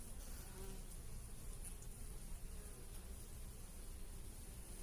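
Honey bees buzz at a beehive in February, a continuous low, steady hum that stays close and even, with no talking.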